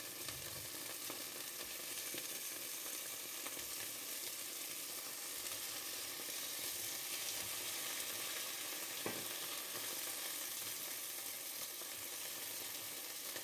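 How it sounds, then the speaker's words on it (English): Beef sizzling steadily in a frying pan with garlic and its reserved juices, a dense continuous hiss with occasional light stirs and pops, close and alone without talk. "Return the meat to the pan with the reserved juices and the garlic and continue to fry"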